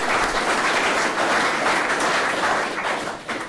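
An audience applauds the cooks who made desserts, salads and vegetables for a shared meal, producing a dense, steady wash of many hands clapping that tapers slightly toward the end.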